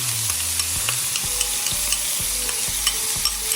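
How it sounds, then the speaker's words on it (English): Shrimp marinated with shallots, garlic, fish sauce and black pepper sizzles in annatto seed oil, a bright continuous crackle with repeated soft scrapes and taps of stirring at a fairly regular rhythm. "Once that's in, so we're gonna go ahead and add the shrimp."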